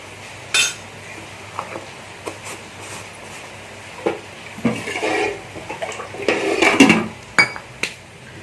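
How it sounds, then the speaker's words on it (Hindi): Oil and baking powder being stirred by hand in a bowl for shakkar para dough, with scattered clinks and scrapes of a spoon against the dish, some louder knocks near the end, no talking. "तापर कौन करवा तेल को बेकिंग पाउडर भल भाव मिक्स करवा धीरे धीरे"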